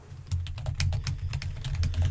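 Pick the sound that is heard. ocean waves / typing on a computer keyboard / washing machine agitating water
typing on a computer keyboard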